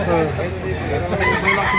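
A rooster crows at the Lipa market in Batangas, a short crow ringing out close by while people talk nearby.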